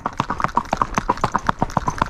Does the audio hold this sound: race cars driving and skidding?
no